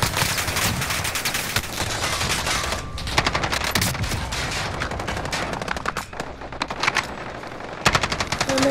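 Rapid automatic gunfire from Call of Duty: Modern Warfare, loud and close, with dense bursts nearly continuous throughout, short breaks between volleys and a few sharper single shots.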